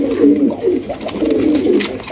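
Arabian koka pigeons coo at a pigeon farm, giving several soft, rolling calls in quick succession, close by and clear.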